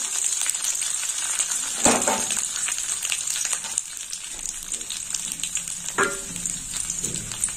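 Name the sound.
whole garam masala tempering frying in a pan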